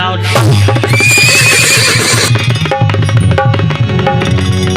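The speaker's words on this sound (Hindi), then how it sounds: "घोड़ा के टाप का आवाज है" A horse neighs with galloping hoofbeats for a chariot in a sung folk tale, sounding loud and close over rhythmic musical accompaniment for nearly five seconds.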